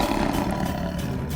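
A tiger roars in one loud, rough, continuous growl that fills the whole stretch, heard alone with no talk over it.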